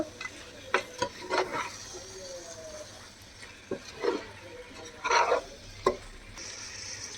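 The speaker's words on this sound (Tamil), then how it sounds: "நம்ம சிக்கன் இதோட போட்டுடலாம். இப்போ கொஞ்சம் நல்லா மிக்ஸ் பண்ணிக்கோங்க." Chicken being stirred into seeraga samba rice biryani in a pot: scattered scrapes and soft clacks of a spoon against the pot, irregular and moderately close, over a quiet background with no talking.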